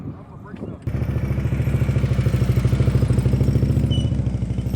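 A motorcycle engine runs at low speed during slow-speed riding practice of figure-eight turns, and its loud, steady, pulsing throb comes in after a brief quiet start.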